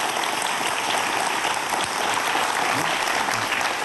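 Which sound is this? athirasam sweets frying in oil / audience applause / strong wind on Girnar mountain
audience applause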